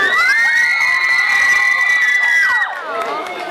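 A crowd cheers and shouts loudly for a singer at a live performance, a sustained wall of high whoops and screams that drops off sharply near the end.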